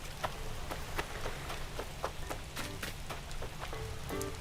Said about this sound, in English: This area looks so moody out in the rain